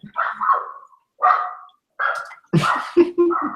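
A dog barks outside in a series of sharp, separate barks, several short bursts with pauses between them, then a quicker cluster of yaps near the end, fairly loud and clear with no talking.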